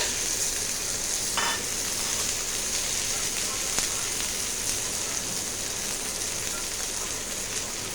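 Chopped onion fries with black cumin seeds and tomato in oil, a loud, close, steady crackling sizzle like rain that runs throughout with light stirring.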